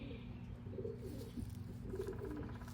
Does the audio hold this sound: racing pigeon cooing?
yes